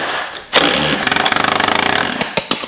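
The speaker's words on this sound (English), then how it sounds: "You've always had a knack for making really strange sounds on the construction site with your power tools." Power tool driving long screws into hard oak wood: a loud, close burst of whirring rattle with rapid rhythmic impacts lasting over a second, then a few short sharp bursts as it stops and restarts.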